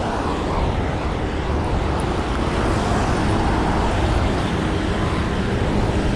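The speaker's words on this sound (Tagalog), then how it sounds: "Mabibilis pa naman mga sasakyan dito." Fast vehicles rush along a road during an uphill bicycle ride, a steady, loud roar of traffic with wind and engine rumble and no clear single pass-by.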